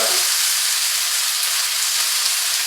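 An ingredient for Thai yellow curry sears in a hot pan, giving a steady, loud, close sizzle with broadband hiss that holds evenly throughout, with no talking.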